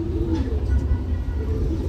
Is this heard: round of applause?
no